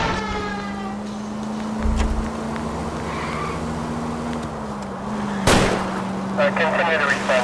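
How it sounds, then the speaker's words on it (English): In the video game L.A. Noire, a couple of sharp gunshots crack out at a fleeing car's tires over a steady engine drone, with voices and scattered game sounds around them. "I'll try to shoot out his tires"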